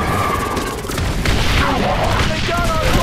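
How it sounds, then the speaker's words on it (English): Artillery strikes in the video game The Bureau: XCOM Declassified, a heavy barrage of booming explosions and crashes, loud and close, layered over battlefield noise and shouted voices. "Get me artillery! Fire mission confirmed!"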